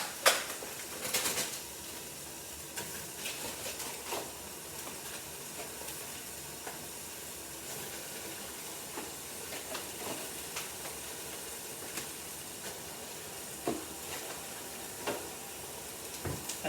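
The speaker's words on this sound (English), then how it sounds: "we'll just keep stirring it through and browning it until it's all kind of cooked down, got some colour to it" Meat browning in hot oil in a pan, a soft, steady sizzle and hiss throughout with occasional light stirring clicks, fairly quiet and without talk.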